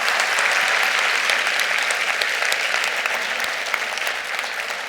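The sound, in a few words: audience applause for doctors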